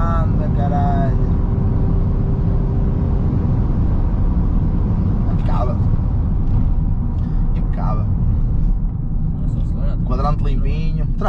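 A Seat Leon 2.0 TDI climbs a hill with a loud, steady diesel drone filling the whole stretch, while people talk over it with short remarks.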